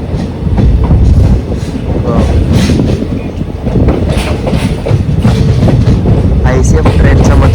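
ICF passenger coaches rolling on the Mysuru to Talaguppa line at dawn, with a loud, continuous rumble and rhythmic clickety-clack of wheels on rail joints heard from close inside the train, with occasional faint squeals.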